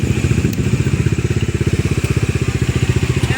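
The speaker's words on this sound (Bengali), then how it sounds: "বাইকের মেলা" Motorcycle engines thrum close by in a crowded gathering of many bikes, a loud, rapid, even pulsing of one dominant engine over a steady background rumble, with no talk.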